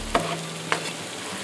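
A spoon stirs meat simmering low in a pot for hours, two soft scraping strokes set against a steady faint background hum.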